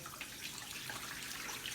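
Water pours steadily into a tub in a small flooding model, a soft continuous splashing wash that stays quiet throughout with no voices.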